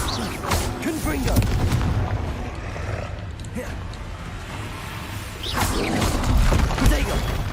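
A Confringo fire spell blasts during a Hogwarts Legacy duel, with booming, crackling impacts rising and falling over continuous in-game battle noise and a rumbling low end.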